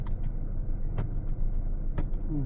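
A car creeps forward in gear during a first driving lesson, its engine idling low and steady with a few light clicks and knocks from inside the cabin, close and moderately loud.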